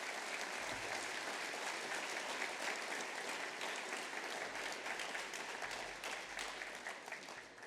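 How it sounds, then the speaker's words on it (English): A round of applause at a high school class night honouring student athletes; a dense, steady crowd of hands clapping throughout, easing slightly toward the end. "if we could all give them a round of applause"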